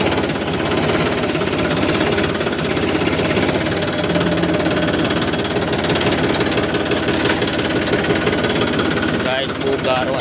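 A tractor engine running near a parking area at an ITI, a loud, steady, rapid knocking chug throughout with faint voices underneath.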